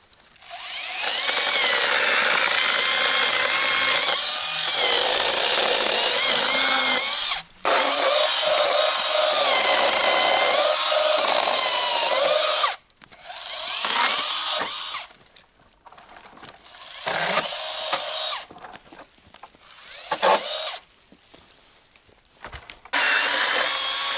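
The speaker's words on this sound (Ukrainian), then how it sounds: "Цією пилкою настільки вдобно обрізати такі мілкі гіляки." A saw rasps through small branches in long bursts of quick back-and-forth strokes, close by, with short pauses between cuts.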